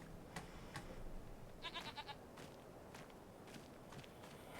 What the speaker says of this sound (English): Get back in your pen, you naughty little goats.